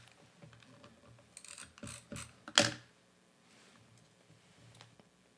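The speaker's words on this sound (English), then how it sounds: "we'll just trim that little overlap off" A paper trimmer slices the overlap off a layered card: faint clicks and short rustling slides, then one sharp crisp cutting stroke, close and quiet, with no talking.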